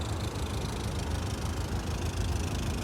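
A Subaru Impreza 22B idles nearby with a steady, low engine rumble, even and unbroken in an outdoor car-meet setting.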